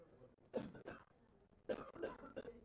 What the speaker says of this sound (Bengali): কাশি দাও কাশি দাও কাশি দাও।